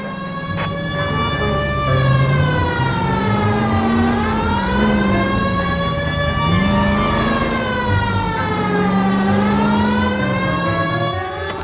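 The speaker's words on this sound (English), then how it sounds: "You friggin' hear a siren and whatnot" An emergency siren wails in the L.A. Noire video game, its rising and falling tone sweeping steadily and loudly for over ten seconds over a low engine hum, with no talking.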